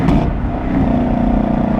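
A 2017 Camaro SS 1LE V8 engine drones steadily off throttle, then blips with automatic rev matching on a downshift, loud and close from inside the cabin.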